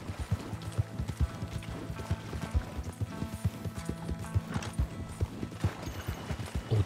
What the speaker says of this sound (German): Wir reiten mal zum Wildpferden.